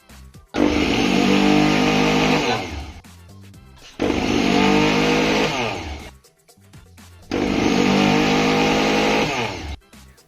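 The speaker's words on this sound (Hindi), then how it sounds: "अब हम मिक्सी को बंद करेंगे और इसको हम पल्स मोड पर चलाएंगे।" Mixer grinder pulsed three times while grinding besan batter, each loud whirring burst lasting about three seconds with short gaps between, no talking.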